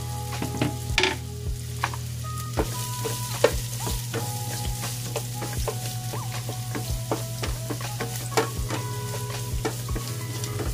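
Onions frying in a pan for a vegetable dish, a steady loud sizzle with repeated stirring scrapes and clinks throughout, no voices.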